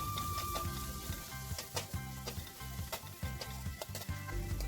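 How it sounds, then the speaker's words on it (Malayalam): A finely chopped medium onion sautés in oil with salt, a soft sizzle broken by repeated stirring scrapes and taps of a utensil against the pan in an uneven rhythm. "ഉപ്പ് ചേർത്ത് നന്നായിട്ട് ഇത് വഴറ്റിയെടുക്കാം."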